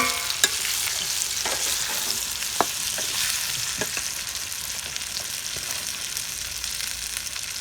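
Gooseberries are stirred in a hot pan for amla pickle, with a constant close sizzle overlaid by occasional scraping strokes of a spoon.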